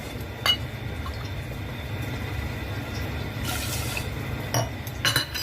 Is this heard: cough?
no